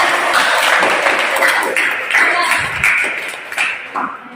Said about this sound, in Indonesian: Oke, tepuk tangan untuk kita semua.